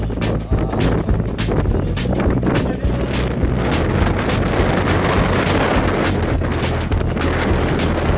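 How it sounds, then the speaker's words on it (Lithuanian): Strong wind roars steadily across a microphone high in the mountains, a loud, continuous gusty rush with buffeting low rumble filling the whole stretch, no voices heard. "Gerai, kaip vėjas pučia."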